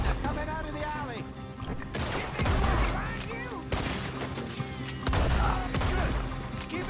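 A Red Dead Redemption 2 shootout, with repeated loud gunshots cracking in irregular bursts over shouting voices and a busy, rumbling background.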